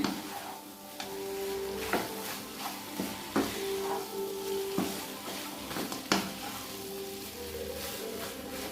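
Chicken masala sautés in a pan while a spoon stirs it at intervals, giving a steady soft sizzle broken by sharp metallic scrapes and knocks against the pan, close and fairly quiet.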